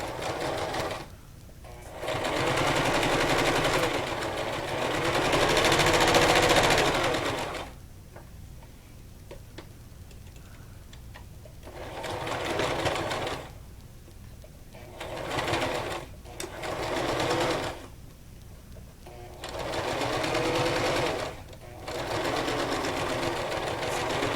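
A sewing machine stitches ribbon onto fabric in several loud bursts of rapid whirring, separated by short pauses and quieter gaps.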